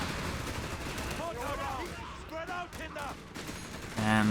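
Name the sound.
gunfire from Grenadiers in the video game Company of Heroes 3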